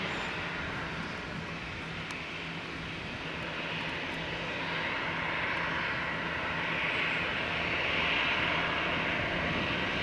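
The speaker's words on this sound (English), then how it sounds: "So here comes the Aer Lingus from Dublin." An Aer Lingus airliner from Dublin arrives at Leeds Bradford Airport, its engines a steady, broad roar that swells slightly as it nears, heard alone from a distance.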